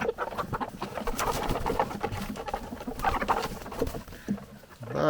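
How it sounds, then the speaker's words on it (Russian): Domestic chickens peck at grain and scraps, making a busy, continuous patter of quick taps with soft clucks scattered throughout, close by and lively. "Куры там зернышки клюют."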